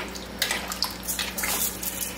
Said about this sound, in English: I want to add a bit more water just to top it up, like so